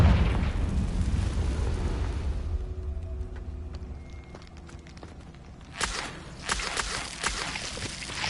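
The Confringo blasting spell goes off in the Hogwarts Legacy game, a loud rumbling explosion that fades into crackling debris, then sharp bursts and pops near the end.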